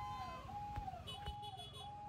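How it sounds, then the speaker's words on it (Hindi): An ambulance stuck in a traffic jam in Srinagar sounds its siren in a steady wailing, rising and falling tone at moderate distance, with background road noise. "यहाँ पे आप देख सकते हैं एम्बुलेंस बीच में रुकी हुई है ट्रैफिक जैम में"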